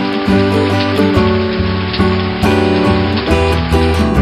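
Rain falls steadily in a cartoon story about a magical JCB, with a dense, continuous patter mixed with a bright, stepped musical score that carries on throughout.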